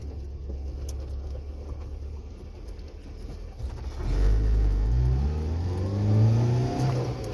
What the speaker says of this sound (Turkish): araç gerçekten çok seri bir şekilde kalkıyor çok seri bir şekilde gidiyor